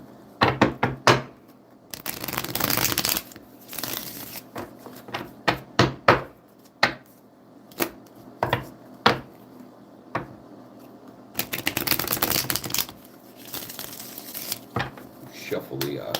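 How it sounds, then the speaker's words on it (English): A deck of Cosmic Tarot cards shuffled by hand, giving loud bursts of riffling and slapping card sounds in uneven clusters, with sharp taps between them, close up and without talk. "Shuffle the Cosmic Tarot a bit. This one's loud, unfortunately."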